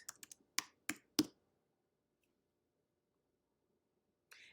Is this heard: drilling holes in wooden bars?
no